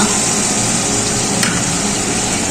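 Spice paste of poppy seed, mustard and green chili sizzling loudly in a pan with a little water, a steady close hiss with faint stirring scrapes throughout.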